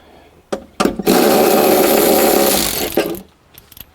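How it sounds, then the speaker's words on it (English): A power tool loosens bolts on a BMW 640i during work on an intermittent no-start fault, sounding as one loud sustained whir of about two seconds between short bursts and clicks at close range. "So I'm gonna undo this bolt here, and then this one here."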